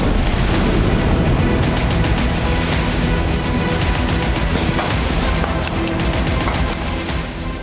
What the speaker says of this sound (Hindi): आतंकियों के ठिकानों पर बमों की बौछार